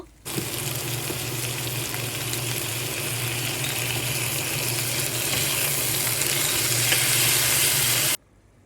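Ginger and garlic paste frying in hot oil with bay leaf, cardamom and cloves, giving a loud, steady sizzle that holds without a break for about eight seconds before stopping abruptly.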